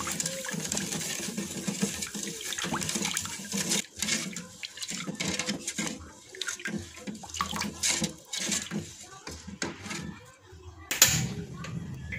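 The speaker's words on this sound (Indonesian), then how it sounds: "lalu tambahkan air sebanyak 900 ml" Water being poured into pudding mix and stirred, a running splashing pour with scraping stirring, close by, with music underneath and a clattering knock near the end.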